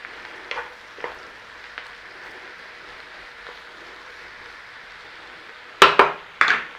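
Cabbage frying with bacon in a pan, a low steady sizzle with occasional soft taps, then two sharp louder clatters of a utensil against the pan near the end, no talking.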